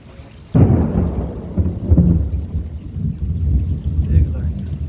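Thunder from a lightning storm over central Texas, a sudden loud crack that rolls into a long, deep rumble, with rain and wind noise continuing underneath.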